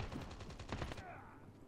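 Gunshots in the Call of Duty Mobile video game, a quick burst of about eight rapid automatic shots at moderate distance, stopping abruptly and leaving quiet ambience.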